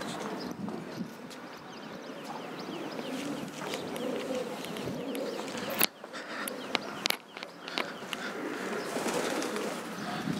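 Soft, low pigeon coos repeat faintly beneath light ambient noise, with a few scattered clicks and taps.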